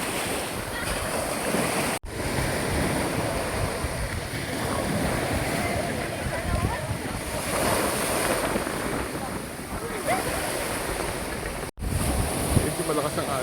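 Strong sea waves rush and churn around an island-hopping boat off Basilisa Island in the Dinagat Islands. Heavy wind buffets the microphone over a continuous surf roar, broken by two brief dropouts.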